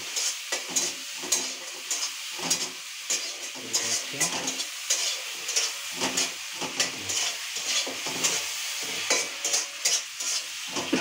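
Red amaranth greens with shrimp and chillies fry hard in a pan, a steady crackling sizzle broken by rhythmic scrapes and clatters of a stirring spatula, close and continuous.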